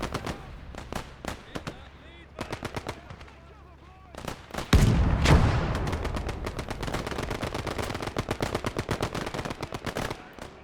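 Rapid bursts of machine gun fire crackle in a Commonwealth World War II tank battle game featuring the Matilda, with dense repeated volleys and a heavy explosion near the middle, under faint background talk.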